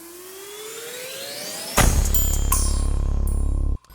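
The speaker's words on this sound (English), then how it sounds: "And then we get this riser too" A drill beat riser drenched in heavy reverb climbs steadily before the full beat crashes in loud and sustained, ending in an abrupt cutoff.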